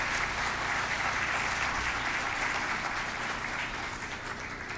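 A large audience claps loudly and continuously, a dense wash of applause that stays strong throughout and fades only slightly at the end.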